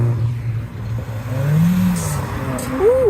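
At a car meet, a Mazda MX-5 revs loudly and close by, its engine note rising and falling briefly, with crowd chatter underneath.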